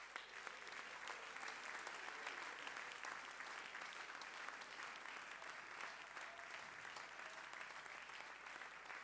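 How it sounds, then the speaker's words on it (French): Church congregation applauding and acclaiming at a Sunday service, a steady, dense wash of clapping and cheering that holds evenly throughout, fairly distant and diffuse in a large hall. "Si vous êtes prêts, acclamez le Seigneur."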